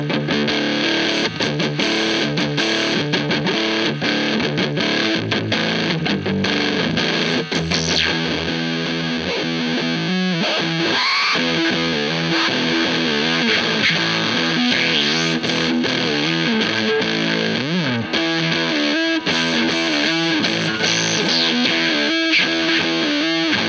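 A heavily distorted electric guitar through a ZVEX Fuzz Factory pedal, fuzzy and saturated, played continuously with sustained chords and some sliding notes, loud and up close with no voices.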